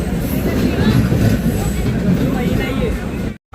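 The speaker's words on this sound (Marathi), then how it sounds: "ही ट्रेनचं नाव आहे सिद्धेश्वर एक्सप्रेस" The Siddheshwar Express rumbles loudly and steadily at close range, a continuous clattering roar of a train on the tracks that cuts off abruptly near the end.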